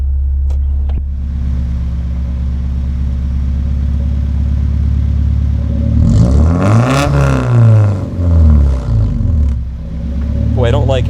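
A car's engine idles at a steady drone, then climbs into a loud rev during a launch control test and drops back in surging waves before rising again near the end, heard from close range.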